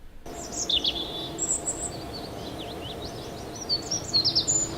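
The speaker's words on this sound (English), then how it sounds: "I don't mind the birds and all that." Birds chirp and tweet in quick, scattered calls in Kerbal Space Program over a soft, steady ambient bed, with no talking.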